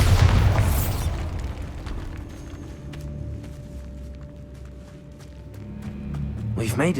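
Bombarda spell explosion in the video game Hogwarts Legacy, cast inside a tomb: a loud booming burst at the start that decays into a low, eerie rumble with scattered clicks, then swells again at the end.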